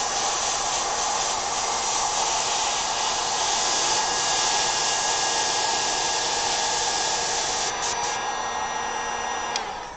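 An airbrush sprays paint onto fabric in a steady, close, airy hiss that continues evenly for about ten seconds with only slight variations, then tapers at the end, with no talking.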